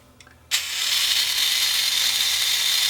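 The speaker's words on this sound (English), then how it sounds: "So what happens if we look at the actual grinder itself?" A small electric grinder motor switches on after a brief quiet moment and keeps running with a steady high-pitched whir, loud and close.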